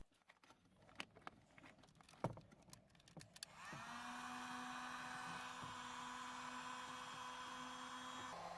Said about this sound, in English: we'll want to use a heat gun on the connections to seal them